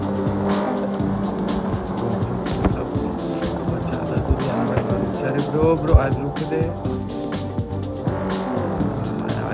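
A car driven in a video game rumbles steadily throughout, with bursts of tire squeal and skidding, while someone talks over it.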